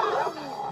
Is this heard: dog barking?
yes